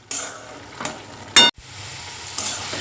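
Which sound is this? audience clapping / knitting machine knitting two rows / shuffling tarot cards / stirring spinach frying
stirring spinach frying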